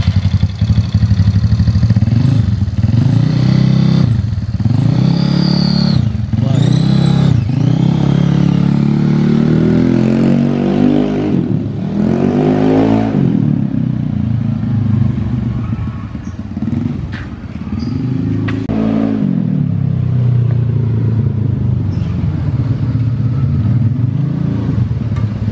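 A Yamaha Mio scooter with an upgraded CVT revs up and down repeatedly on a test ride, loud and close, with throttle blips rising and falling over a steady idling rumble.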